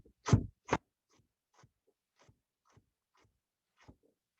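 A knife cutting carrots on a cutting board: two firm, close strokes, then a string of soft, irregular taps in a quiet kitchen with no speech.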